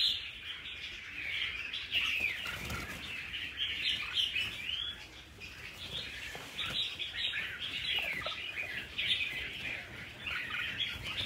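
Red-whiskered bulbuls chirp and tweet continuously, with fluttering wing sounds as the birds are released, a steady layered chorus at moderate distance with no talking.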